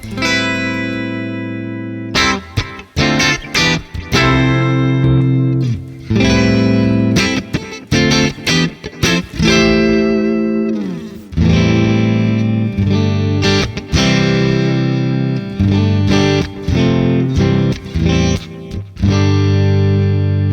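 Bright electric guitar chords strummed through a clean amp on Neural DSP Archetype: Gojira, rhythmic stabs with short pauses between them, loud and up front.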